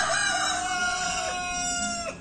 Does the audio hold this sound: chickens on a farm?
yes